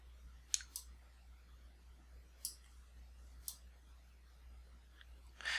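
Computer mouse clicks on a desk, several sharp, quiet clicks spaced irregularly, some in quick pairs, over a low steady hum with no talking.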